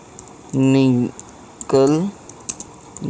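Typing on a computer keyboard to enter a search on a website, a few scattered key clicks between two stretches of spoken voice.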